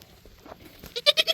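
A young goat kid on a farm bleats for its bottle in a quick series of three or four loud, close, nasal cries near the end, after a quiet stretch of faint shuffling.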